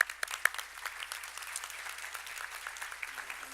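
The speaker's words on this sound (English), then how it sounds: "so would you please give them a round of applause?" Audience applause for a music trio at a bar association luncheon, a steady patter of many hands clapping at moderate volume, continuous throughout with no voices over it.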